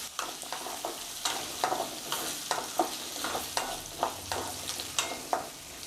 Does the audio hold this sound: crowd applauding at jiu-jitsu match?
no